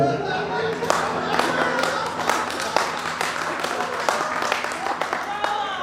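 Audience at a Hindi political training event clapping in loose, uneven bursts, sharp individual claps standing out from a rustling crowd, with a voice talking over parts of it.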